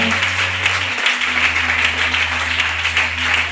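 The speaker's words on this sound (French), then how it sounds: "Une bonne acclamation." A church congregation applauds and cheers in a steady, dense wash of clapping and voices that carries on throughout, with a low continuous hum underneath.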